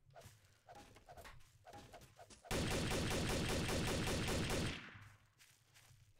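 Rapid, sustained gunfire from a Garry's Mod Trouble in Terrorist Town match, a loud continuous burst of about two seconds that cuts in abruptly after quieter background noise and then fades.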